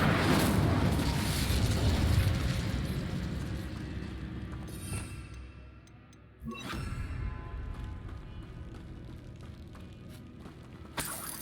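Incendio fire spell cast in Hogwarts Legacy, a loud roaring whoosh that fades over several seconds, then a sharp burst and another sustained rumbling blast.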